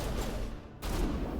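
Enemy fire in Mass Effect aimed at the player, a loud, dense crackle of gunshots that briefly drops off and then resumes, with no talking over it.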